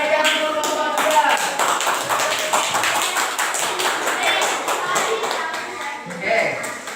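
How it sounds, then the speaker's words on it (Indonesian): Classmates clap for group 3 in a school classroom, a dense, steady patter of hand claps lasting throughout with a few louder taps, close and lively, with children's voices mixed in. "Kasih tepuk tangan yang meriah untuk kelompok 3"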